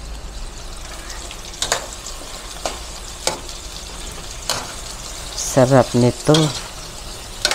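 Pork cubes being stirred into a simmering moringa and patola soup, with a soft sizzle, scattered clinks of a utensil against the pot, and a voice speaking briefly over it.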